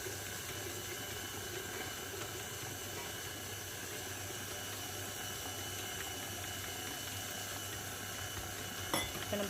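A stand mixer on low speed kneads chapati dough as water is added, giving a steady whirring hum with faint clatter and a few louder knocks near the end.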